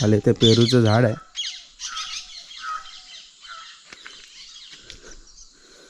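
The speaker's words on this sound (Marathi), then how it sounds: "पोपटांचा नुसता किलबिलट आहे म्हणजे या केकाटे ओरडतात ना तसे ओरडतात" A flock of parrots squawks loudly and harshly near a guava tree on a Konkan village farm, with one strong burst of calls followed by scattered, fainter chattering while a person talks.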